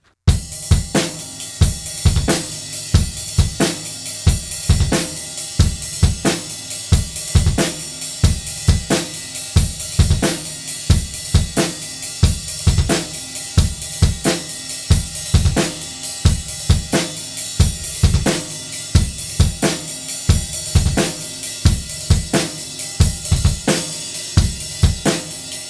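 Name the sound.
drum kit groove with ride cymbal and 16th-note bass drum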